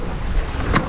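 A sailboat under sail at sea with its engines off, steady wind and water wash running throughout, with a brief splash or gust near the end.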